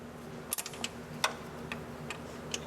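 A ratchet ticks in sparse, irregular single clicks while snugging a low-pressure line bolt on the AC compressor of a 2003 GMC Yukon, faint and close, over a steady low hum.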